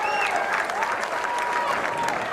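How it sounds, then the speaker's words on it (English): Fight-night crowd applauding boxers after four rounds, a dense, steady round of clapping with a voice briefly audible over it. "Round of applause for you guys."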